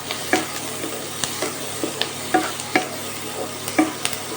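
Onions frying in a pan over a raised gas or induction flame while egg pulao is being cooked, with a steady soft sizzle and repeated sharp scraping taps from stirring, close and clear with no talk.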